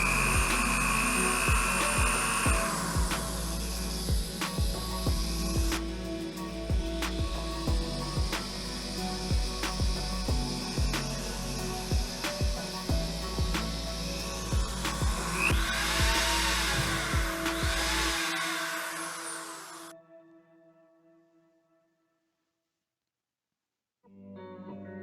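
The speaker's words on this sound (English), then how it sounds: "Since we don't know where the bolt head will be positioned once tightened down, I'm going to drill 2 more holes." A power drill bores holes into the heads of motorcycle brake line banjo bolts, a continuous loud whine with steady pulsing for about twenty seconds before winding down, followed by near silence and a brief restart at the end.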